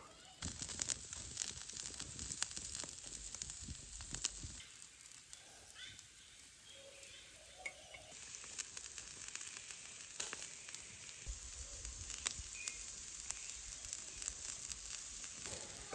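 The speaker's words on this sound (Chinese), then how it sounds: "烤的滋滋冒油" Pork belly grilling over a fire gives a steady, close crackling sizzle of spitting fat that runs the whole stretch with no talk.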